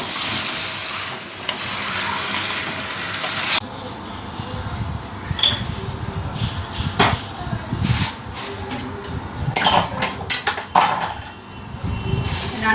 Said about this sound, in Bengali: চিকেনটাকে আগে ভালো করে কষিয়ে নিই